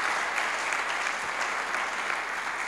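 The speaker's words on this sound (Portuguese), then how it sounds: "Então aplaude o Senhor em nome de Jesus." An audience at a church service applauds steadily, a dense, even wash of many hands clapping together, fairly close and sustained throughout with no talk over it.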